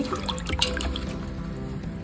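Elephant foot yams being washed in a vessel of water, with continuous sloshing, dripping and trickling close by, steady and fairly loud, with no voices.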